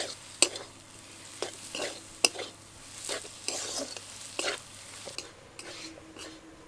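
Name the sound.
stirring spiced potato mixture with chopped coriander in pan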